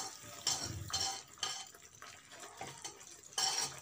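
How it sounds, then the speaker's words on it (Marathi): Roasted sesame seeds stirred in a pan over a low flame for sesame laddoos, with a spoon scraping and rattling against the metal in irregular bursts and soft gritty rustling between strokes. "आणि व्यवस्थित ढवळत राहायचं आहे."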